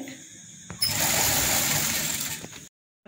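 A sewing machine stitches a folded dupatta floor mat in one continuous, close whirring run of about two seconds, then stops dead and falls silent.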